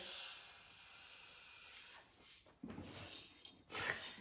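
Short bursts of hissing aerosol fixative spray from about a foot away, a few quick sprays in succession, fairly close, with faint background noise and no talking.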